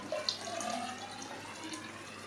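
Steady rushing of water pouring and spilling into an enclosed space, continuous and fairly faint, with a small splash near the start.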